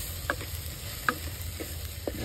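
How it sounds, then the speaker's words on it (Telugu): A spoon stirring salt into an onion and curry leaf curry in a frying pan, giving a few soft scrapes and clicks over a low, quiet sizzle, with no talking. "ఉప్పు బాగా కలిసేంత వరకు తిప్పుకోవాలండి"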